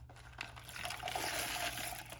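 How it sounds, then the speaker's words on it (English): Tap water running over beans in a colander, a soft steady trickle and splash with a faint, continuous, even texture. "you let the water run over the beans for a few minutes"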